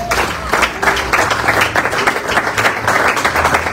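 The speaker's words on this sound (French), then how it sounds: "Est-ce que nous pouvons acclamer le Seigneur?" A church congregation claps and cheers in praise, a dense, steady burst of many hands with voices rising throughout, loud and close for several seconds.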